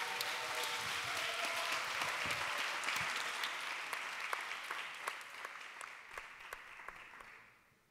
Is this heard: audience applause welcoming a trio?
yes